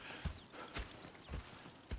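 Horse hooves clip-clop on the ground in the video game Red Dead Redemption 2, several soft, uneven steps close by with a quiet background ambience.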